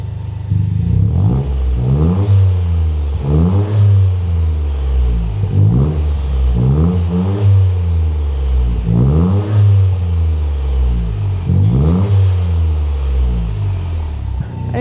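A Toyota GR Yaris three-cylinder engine fitted with an aftermarket exhaust is revved repeatedly, loud and close. Around eight throttle blips climb and fall over a steady idle, with no talking.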